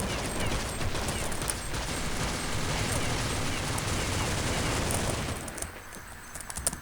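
Rapid automatic gunfire from a weapon in Counter-Strike 1.6 zombie mode rattles out in a dense, loud continuous burst for about five seconds, then trails off into quieter game sounds.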